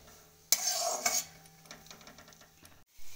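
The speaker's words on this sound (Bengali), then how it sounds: "বারবার নাড়তে হবে যাতে পুড়ে না যায়" Raisins frying in a pan for carrot halwa get stirred, with a sharp scrape and clatter of a spoon against the pan, then softer intermittent stirring over a light sizzle, close and fairly quiet.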